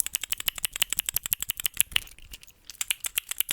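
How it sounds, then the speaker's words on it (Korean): Rapid clicky keystrokes on a mechanical keyboard, a steady stream of sharp taps with a brief pause near the middle, close and fairly quiet. "키보드 이거 있잖아. 키보드 누르는 거."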